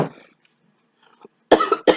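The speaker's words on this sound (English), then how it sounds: "if you inhale it, it might make you cough." A person coughs after breathing in coconut cooking spray, several sharp close coughs in two short bursts near the end after a quiet stretch.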